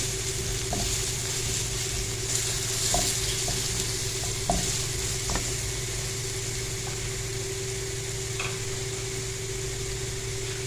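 Garlic fries steadily in a pan with a constant soft sizzle, a low hum underneath and a few faint clinks.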